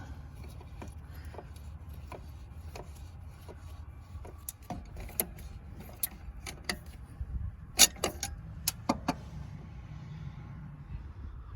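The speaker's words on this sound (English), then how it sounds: "we're gonna be tightening the other one with a channel lock" Channel lock pliers tighten a stud on the throttle body of a 1991–94 Toyota Tercel during idle air control valve work, producing scattered sharp metallic clicks and ticks that grow more frequent toward the end over a low background hum.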